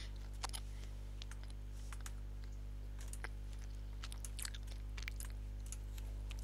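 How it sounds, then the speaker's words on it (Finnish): Someone eats food, with soft intermittent crunchy chewing clicks close to the microphone over a steady low electrical hum, no talking. "Kuuluukohan tää mun syönti, kun mä syön ruokaa"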